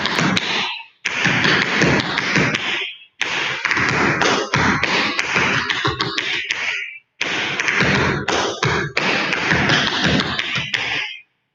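Tap shoes strike a hard floor in an intermediate tap combo, rapid bursts of toe, heel, scuffle and shuffle taps grouped into phrases with short pauses between them, crisp and close.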